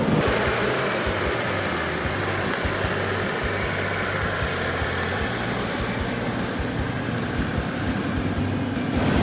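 A 4X4 in low range with tyres down to 20 psi churns through a bog hole, its engine droning steadily with sloshing, splashing water running continuously throughout.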